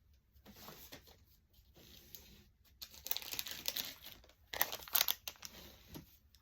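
Clear plastic bag material crinkles and rustles close by in irregular bursts that swell louder toward the end, with short pauses between handling movements.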